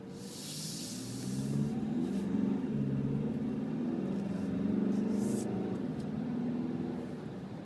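Steady low engine hum and road rumble from inside a moving 2012 Volkswagen Jetta TDI with the windows closed and AC on, a constant drone with a faint hiss at the start.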